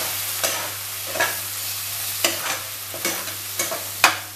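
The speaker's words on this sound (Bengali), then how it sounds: "মশলাটাকে আমি একটু ভালো করে কষিয়ে নেব" Spice masala with Kashmiri chilli and cumin fries in a pan for a cauliflower and prawn dish: a soft, continuous sizzle with repeated scraping stirs roughly every second.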